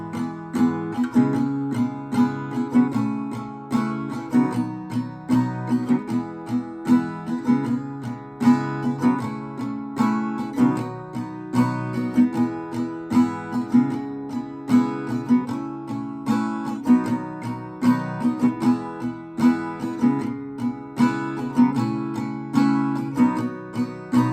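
Acoustic guitar strumming the second verse of a song, a steady rhythmic chord pattern played alone and continuously, close and clear.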